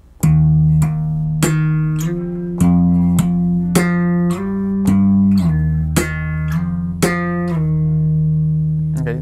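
A bass guitar plays a solo passage: a steady run of about a dozen plucked notes with slides between some of them, close and clear with no voice over it.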